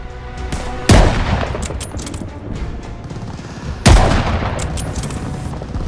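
Gunfire from above in Call of Duty: Vanguard during a battle near a hotel in Stalingrad, with two heavy booming bursts about three seconds apart, each followed by rattling shots and debris over a constant noisy battlefield din.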